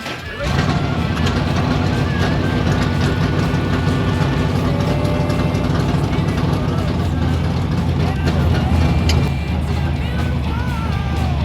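A small-block Ford 1961 F100 gasser truck pulls away under a steady, loud low rumble of engine and drivetrain noise, with mechanical clatter throughout and people speaking over it.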